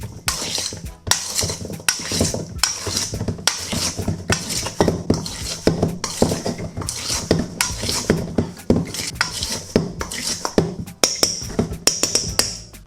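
Chicken wings are tossed with plain flour and cornflour in a bowl, producing dense, rhythmic clacks, scrapes and taps against the bowl that are loud, close and continuous throughout.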